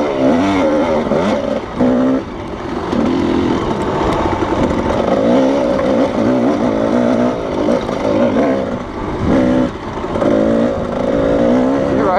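A Kawasaki KDX220 two-stroke dirt bike is ridden hard across rough desert ground, its engine revving loudly and continuously up and down close by, with no voices over the noise.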